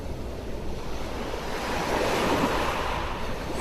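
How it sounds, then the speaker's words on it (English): Ocean surf washes steadily over a beach shore, a continuous broad rushing swell that builds gently, with some wind. "You hear the gentle rush of water as the tide whooshes over the shore and your feet, and then recedes back into the sea."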